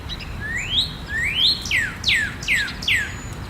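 Small birds at a backyard bird bath give a run of bright, clear chirps, about six rising and falling tweets spaced a half second apart, close and crisp with no talk.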